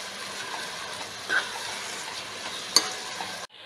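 Ginger garlic paste stirred while frying in a pan for chicken biryani, a steady sizzle with a couple of brief scraping accents, fairly close, with no talk.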